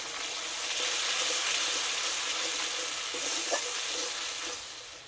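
A paste of ground poppy seeds and cashews frying in a pan of cooked-down masala for vegetarian Kashmiri aloo dum gives a soft, steady sizzle and hiss with a few faint stirring clicks.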